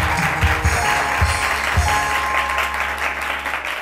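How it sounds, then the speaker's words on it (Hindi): Studio audience applause at a weekend talk show fills the clip, steady dense clapping with a few louder bursts early on, continuing without a break to the end. "उनकी टीम के लिए भी तालियां हो जाए"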